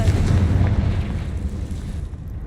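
Fiery Confringo blast in the Hogwarts Legacy video game, a loud rumbling boom that rolls on with dense low-end roar and slowly fades over a couple of seconds, with no voices.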